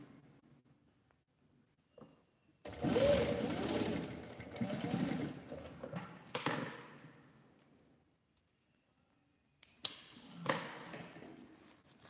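Sewing machine closing the opening of a fabric card and coin purse: a short whirring run of stitching close by, a brief pause, then another quick burst of stitches.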